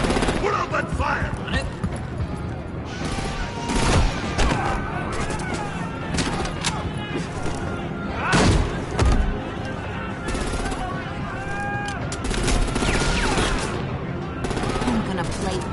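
Gunfire rattles through a Telltale Batman video game scene: repeated bursts of automatic and single shots with heavy impacts, loud and close, mixed with voices shouting over the fight.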